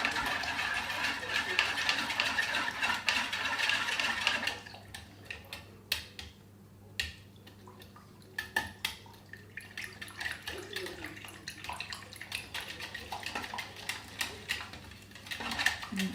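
A spoon stirs mango drinking yogurt with powdered milk in a container: a soft wet sloshing swirl at first, then quieter irregular clinks and taps of the utensil against the sides, close and faint.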